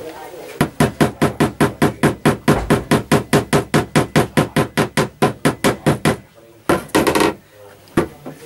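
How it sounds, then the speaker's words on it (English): Model railway track pins driven in with a small hammer: about two dozen quick, evenly spaced, sharp knocks up close, followed after a short pause by a few more scattered taps. "when you're in the process of hammering and popping in the pins"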